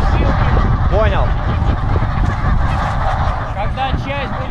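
A flock of geese honk repeatedly on Wrangel Island in the Arctic, loud nasal calls close by over wind and movement noise, with people talking throughout.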